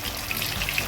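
Lady fish (kizhangaan) coated in masala frying in hot oil, a steady close hiss and crackle with scattered small pops and no voices.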